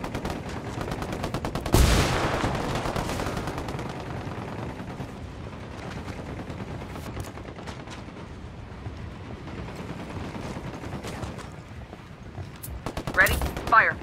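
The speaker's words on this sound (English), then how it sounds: "Opening fire on these fuckers." Sustained automatic gunfire in the tactical shooter Ghost Recon Wildlands, rapid bursts rattling on for the whole stretch with a loud shot near the start and heavier firing at the end, with faint voices mixed in.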